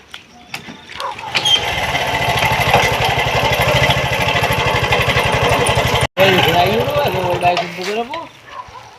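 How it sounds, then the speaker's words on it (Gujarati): A motorcycle engine is kicked to life and settles into a loud, rapid, even putter for several seconds, cuts out, then sputters and revs unevenly as people talk nearby. "છોકરા બાઈક આવી ગયું ચાલુ કરો"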